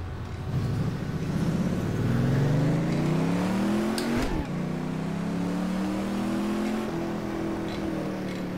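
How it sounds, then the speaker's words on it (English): Camaro stock car in the racing game Stock Car 2012, a loud close engine climbing through revs with rising harmonic whine, a brief gear-shift dip, then a sustained high-rpm drone. "And I'm in the Camaro in Stock Car 2012."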